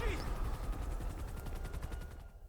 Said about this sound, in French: Vas-y, cours en plein milieu de la fusillade.